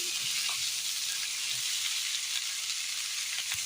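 Ingredients for a Kerala curry sauté in a pan, giving a steady, even sizzling hiss throughout with a few faint stirring taps, close and moderately loud.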